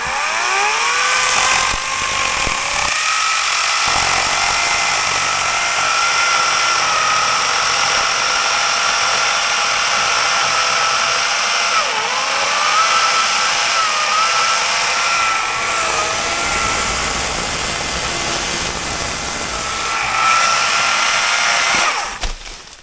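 Wild Badger battery-powered electric chainsaw running continuously, a loud close high-pitched motor whine with a rattling chain, the pitch dipping and rising under load as it cuts, with no talking.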